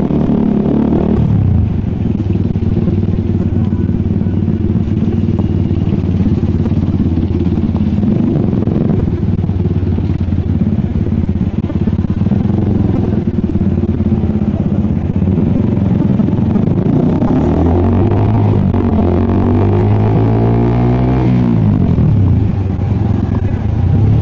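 Heavy road traffic with motorcycles squeezing through, a steady close rumble of engines with clatter and rising revs continuing throughout.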